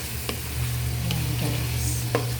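Noodles and oyster sauce are stirred in a hot pan while preparing pansit bato, with a soft, steady sizzle and a few distinct scraping clicks of the utensil against the pan, close and fairly quiet.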